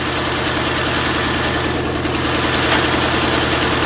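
A 1950 Farmall Cub tractor's small gasoline engine running steadily after being started with a hand crank, a loud, close, even putter with a rapid rhythmic knock and no voices over it.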